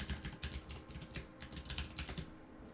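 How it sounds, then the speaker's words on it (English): A password being typed on a computer keyboard: a quick run of light, close key clicks in irregular bursts, with no talk. "So type in the password that you set."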